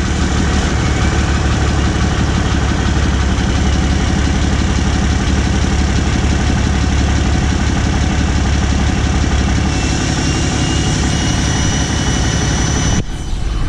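Cummins diesel truck engine running loud and close, a dense rumbling idle with a steady low throb that holds throughout.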